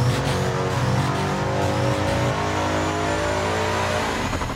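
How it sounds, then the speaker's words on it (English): A supercharged 5.8-liter Mustang engine revs hard under load on a dyno, a loud, continuous roar sustained throughout with no voices. "putting it on the dyno, putting a load on that car to really see what we can get for a sound"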